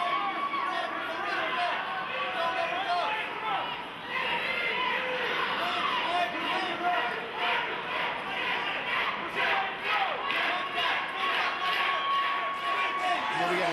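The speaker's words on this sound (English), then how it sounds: "You get the crowd behind us chanting Nick, Nick, Nick." Arena crowd at a fight chanting the fighter's name, Nick, in a steady rhythmic pulse that fills the whole stretch, with a commentator talking over it.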